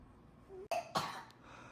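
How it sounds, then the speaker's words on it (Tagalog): A young child, sick with a fever, lets out two short coughs in quick succession, quiet and close, in a hushed room at night. "Ubo na naman."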